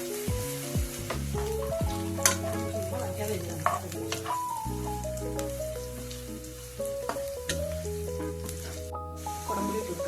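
Curry leaves crackling and frying in hot oil in a pan for a Kerala-style snakehead fish curry, a steady close sizzle with scattered pops and clinks of stirring, with background music playing throughout.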